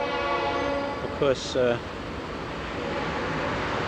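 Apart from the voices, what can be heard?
train passing in the background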